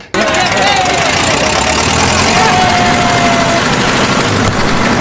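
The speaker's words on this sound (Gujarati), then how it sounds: "આજ તો મારે છે ને ટ્રેક્ટર ચલાવવું" A loud tractor engine runs steadily at close range, a constant rattling drone that continues without a break for the whole stretch.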